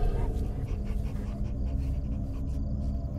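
A dog whimpering and panting in the horror video game Fears to Fathom, soft rapid breaths with faint whines, quiet beneath a muffled background rumble.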